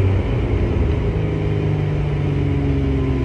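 A Lotus Emira sports car with sport suspension accelerates hard toward 100 km/h, its engine a steady loud drone with rising harmonic lines and dense low rumble, heard from inside the cabin with no talking.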